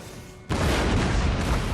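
Artillery cannon fire in the Napoleonic-era strategy game Total War: Napoleon, a sudden loud boom that swells into a dense, sustained rumble of massed guns after a quieter moment of battlefield noise.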